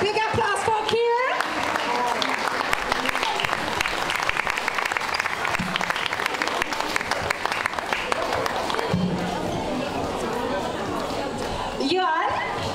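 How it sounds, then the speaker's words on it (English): Big audience at a school Macbeth performance breaks into loud, sustained applause that fills the hall for about twelve seconds, with cheering voices mixed in, thinning out near the end. "Big applause for Kira"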